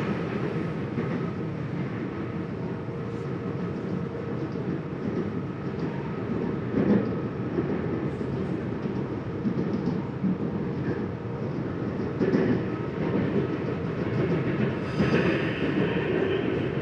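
A CPTM Line 11 Coral commuter train in São Paulo heard from inside a carriage while running: a continuous loud low rumble with rhythmic clickety-clack from the wheels and occasional rattles, no talk.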